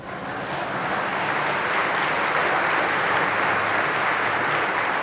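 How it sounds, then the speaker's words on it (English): A community event audience in Calgary claps for an announcement, dense and sustained, swelling within the first half second and holding an even roar for about five seconds. "I'll wait for you guys to clap."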